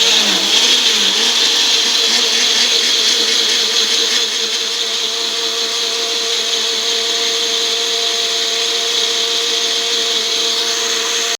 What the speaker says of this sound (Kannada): ನೀಟಾಗಿ ಇದನ್ನು ಬ್ಲ್ಯಾಂಡ್ ಮಾಡ್ಕೊಂಡು ಬರೋಣ ಮಿಕ್ಸಿ ಮಾಡ್ಕೊಂಬರೋಣ